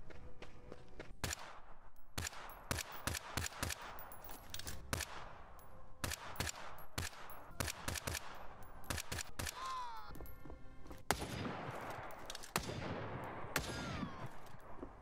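Rapid single gunshots from a semi-automatic weapon in the survival game Front, sharp cracks fired in irregular bursts throughout, with the shots packed tighter toward the end.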